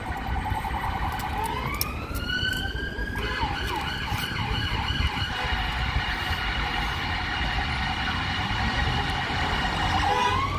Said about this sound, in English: I can hear that siren coming up behind.